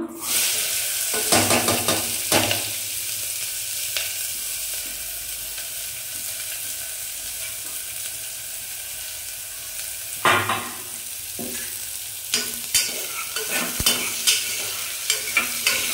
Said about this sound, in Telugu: ఇది బాగా ఫ్రై అవ్వాలి.